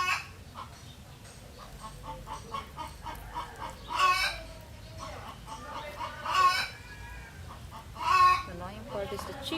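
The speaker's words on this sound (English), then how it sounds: "Why do they make so much noise after laying eggs?" Chickens in a rural Philippine province cackle loudly after laying eggs, repeated squawking clucks rising in bursts over steady background clucking, fairly close.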